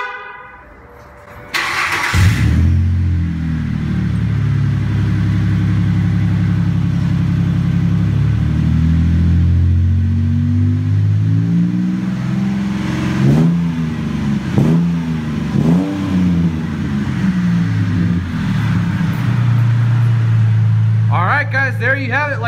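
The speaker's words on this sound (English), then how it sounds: "definitely a much better sounding exhaust" A 2003 Ford F-150 pickup with a 4.2L V6 and MagnaFlow cat-back dual exhaust with chrome tips starts up loudly, then idles and revs repeatedly in deep surging pulses, with a brief horn-like burst near the end.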